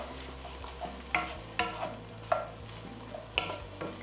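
Parsley, red pepper flakes and salt sautéing in a pan: a soft sizzle underneath a low steady hum, broken by several distinct scraping clinks of a utensil against the pan at irregular intervals.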